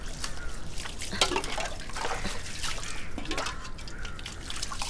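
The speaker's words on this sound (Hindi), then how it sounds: "पीठ पे पानी डाल" Water being poured over someone's back during a bath splashes and drips in irregular spatters at close range, with no voices in between.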